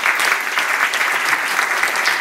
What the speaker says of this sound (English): Can I also ask you all to give us a very great applause